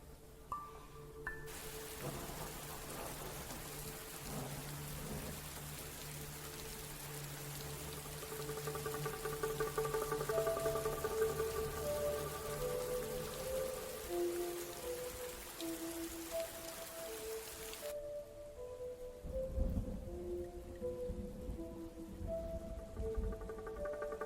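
Steady rain patters and drips over a faint drama soundtrack, with sustained musical tones running throughout and a brief thud near the end.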